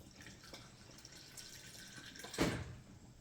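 Water from a kitchen tap flows faintly and softly while cheese paratha dough is being made, with a brief louder splash near the end.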